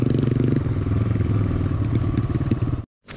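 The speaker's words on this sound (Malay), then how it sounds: "Bunyi motor tadi tu gedeng gedeng." A motorcycle rides along a forest track near a woodland pond, its rider heading in to gather rattan. The engine rumbles loud and close with clattering, then cuts off suddenly near the end.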